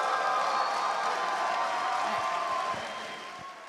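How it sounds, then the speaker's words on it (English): A crowd at a live chess event claps and cheers in a steady wash of applause that slowly fades toward the end. "Let's give a round of applause."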